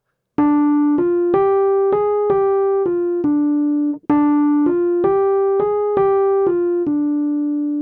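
Piano notes running up and down four notes in a steady swung rhythm, the short pattern played twice, clear and close with no talking.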